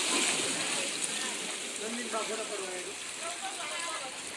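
Tide water rising over stone steps at Dwarka, heard as a steady wash of sloshing and splashing water, fairly loud and continuous, with voices talking over it throughout.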